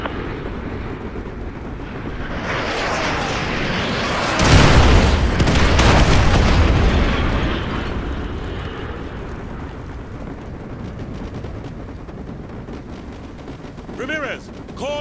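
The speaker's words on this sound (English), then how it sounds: "Fire mission received. Artillery inbound." Artillery shells strike in Call of Duty: Modern Warfare 2 with a massive, close boom that swells into a long, rumbling roar before slowly fading. A voice speaks over the start and a few sharp clicks follow at the end.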